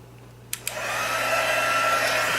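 A heat tool for shrink plastic art switches on with a couple of sharp clicks, then settles into a steady, close, whooshing blower hum with no talking.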